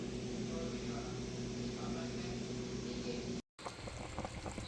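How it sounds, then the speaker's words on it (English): Ham bone soup broth at a rolling boil in a pot, a steady close bubbling hiss with a faint tonal hum beneath, cut briefly by a short dropout before the bubbling resumes. "This has been boiling for about 10 minutes."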